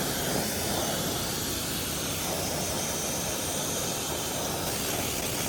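A water nozzle rinses a car's wheels during a wash in direct sun, giving a steady, loud, close hiss of spray that runs without a break and with no talking.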